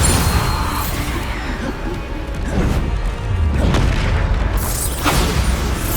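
Bombarda explosion spells from the video game Hogwarts Legacy go off as loud booming blasts and crashes, several impacts over continuous roaring combat noise.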